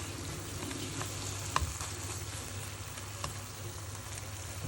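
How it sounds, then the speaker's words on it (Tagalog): Oysters and scallops stir-fry with bok choy in a pan, a soft continuous sizzle with occasional light scrapes and clicks of stirring, fairly quiet and with no talk. "Stir fry na oyster saka yung scallops."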